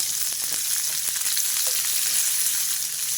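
Onions softening in a little oil in a home kitchen pan while a jackfruit seed curry is being made, giving a steady, continuous close sizzle with faint crackles and no talking.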